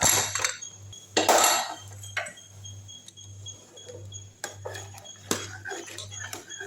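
A pressure cooker lid is opened after the steam has been released, with metallic clanks and scraping of the lid and pot, several sharp clinks scattered among quieter handling over a low hum.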